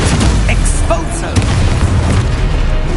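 Spell explosion from the Expulso charm in the Hogwarts Legacy video game, a dense rumbling boom running throughout amid continuous combat noise and other spell effects, loud and close.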